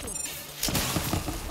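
A grenade explosion in a video game bursts out suddenly into a loud, broad roar of blast and debris that keeps rumbling for about a second after a quieter stretch, with no talking.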